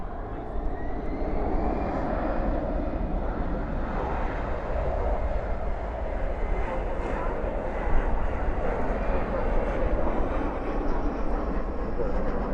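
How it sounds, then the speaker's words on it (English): An airliner lands at night at DFW with spoilers up and thrust reversers deployed, a loud continuous roar of reverse thrust filling the whole stretch at a steady level. "Spoilers up, reversers out."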